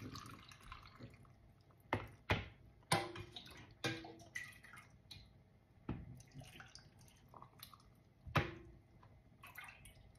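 Water poured and splashing into kitchen glasses packed with vegetables, heard as irregular close drips, splashes and sharp glassy clinks against a quiet background.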